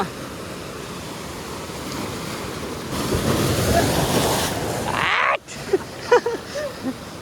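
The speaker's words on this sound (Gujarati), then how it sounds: "થોડું પાણી ઉડે છે મિત્રો, જોઈએ હવે કેટલું પાણી ઉડે." Waves splash and throw spray near the rocky shore at Ratneshwar Mahadev, a rising surge of surf that crashes close by, then bursts of water and wind noise follow.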